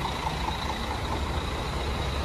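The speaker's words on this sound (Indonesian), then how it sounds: "Ini Bandung Express Jet Bus 3-nya baru rombak." Idling Jet Bus 3 coach of Bandung Express, recently rebuilt, standing at Cicaheum bus terminal, giving a steady low diesel rumble with continuous terminal background noise and no talk.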